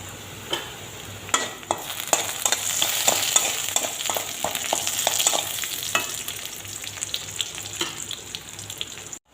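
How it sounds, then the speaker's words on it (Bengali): Chopped onion, garlic and a bay leaf frying in oil in a wok, a close crackling sizzle broken by repeated sharp scrapes and clinks of stirring. "পেঁয়াজ কুচি রসুন কুচি ভাজা ভাজা হয়ে গেছে"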